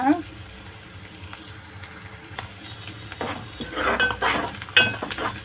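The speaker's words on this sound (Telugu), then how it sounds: "ఇట్లా కొంచెం ఫ్రై అయితే చాలు" A spicy mutton masala curry cooking in a deep pot, a low sizzle with scraping stirs that grow louder and busier toward the end, along with some running water and a brief voice.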